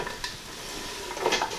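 Roughly chopped onions go into a stew pot with browned lamb, giving a brief clatter and scrape followed by a soft sizzle and stirring, close by.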